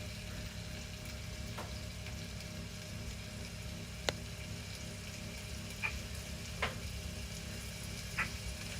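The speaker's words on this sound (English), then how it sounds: "Can you hear that sizzling in the pan, people?" Pork belly sizzling in a frying pan during a Chinese banquet cook, a steady crackling hiss with scattered sharp pops, close and fairly quiet, with no talking over it.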